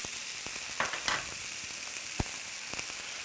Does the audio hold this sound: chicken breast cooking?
yes